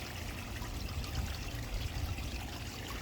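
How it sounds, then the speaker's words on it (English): Cascading water in a koi pond filter system runs continuously, a steady close splashing and trickling rush with no pauses and no voices. "Have some cascading water that runs 24/7."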